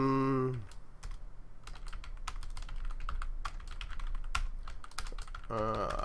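Rapid clicky typing on a worn computer keyboard, close and continuous with irregular keystroke bursts, while a voice talks briefly at the start and end.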